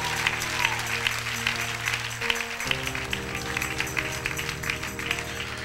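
A church congregation claps steadily during a Spanish-language worship service, the applause continuing throughout as a sustained organ or keyboard tone holds beneath it.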